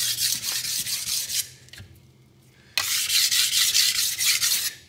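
A blade scraped across a Lidl Parkside whetstone in two long, loud grinding passes separated by a brief quiet pause, close up with no voices.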